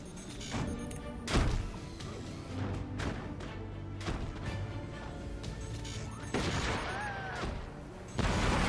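Shotgun weapons firing in the Forts video game, several sharp blasts and crashing impacts spread across a quiet battle backdrop, with a few louder hits.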